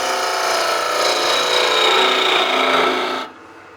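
A 3/8 bowl gouge makes a full wing cut into spinning wood on a lathe, giving a loud, steady rasping hiss that holds for about three seconds before stopping abruptly.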